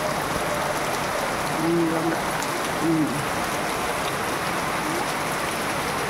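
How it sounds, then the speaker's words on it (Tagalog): Dense, steady rain pours down with a constant hiss, loud and close, with a couple of faint tonal hoots underneath. "Sobrang lakas ng ulan"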